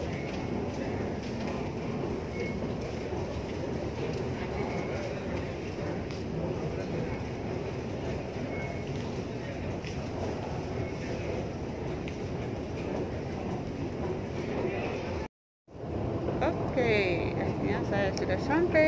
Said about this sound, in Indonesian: Sudah sampai di 6th Avenue MRT.